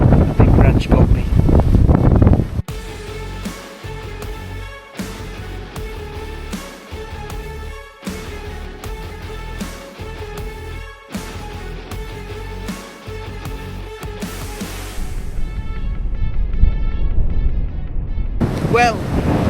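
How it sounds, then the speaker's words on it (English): High wind blowing through a hazel coppice woodland, a steady roaring rush with rhythmic buffeting and gusts that swell louder toward the end, close to the microphone with no talk. "Well, it's no less windy."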